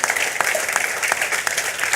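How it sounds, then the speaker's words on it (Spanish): A church congregation breaks into dense, steady applause, many hands clapping together close and loud for the whole stretch, with no voices standing out above it. "Vamos a darle un fuerte aplauso al Señor Jesús."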